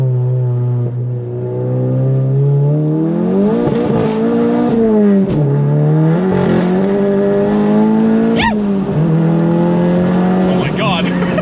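A VW Golf GTI MK7 fitted with an IS38 turbo revs hard through the gears, engine pitch climbing and dropping with sharp cuts at the limiter, loud and close while a person talks over it.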